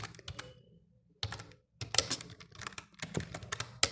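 Code is typed on a computer keyboard in quick clattering bursts of key taps, close and fairly quiet, with a brief pause before the typing resumes faster.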